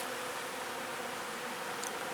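Bees buzzing steadily around close by, a dense continuous drone with a faint higher whine drifting through, no voices.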